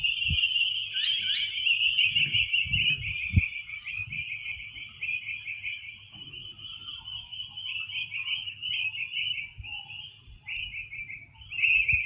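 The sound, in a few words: birds singing outdoors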